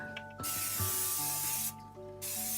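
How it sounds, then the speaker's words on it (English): Cooking spray hisses into a fruitcake baking tin in two steady bursts, the first long and the second shorter after a brief pause, close and alone with a faint hum underneath. "Let's spray the devil out of it."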